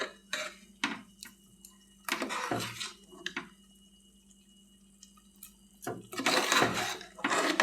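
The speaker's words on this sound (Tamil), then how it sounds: "இப்போ கொஞ்சம் உப்பு சேர்த்துக்குருவோம். கிண்டி விட்டுக்குருவோம்." Salted mutton biryani stirred in a pot, with intermittent scraping and clinks of a spoon against metal in short bursts separated by quiet gaps, close and moderately soft.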